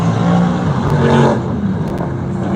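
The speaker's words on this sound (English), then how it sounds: "You can probably hear the drag racing in the background." Drag racing cars roar and accelerate loudly in the background at a Mopar car show, with a steady engine rumble and a surge of revving.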